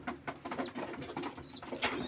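Soft pigeon cooing and wing flutters close by, with scattered patter and a faint high chirp in the background.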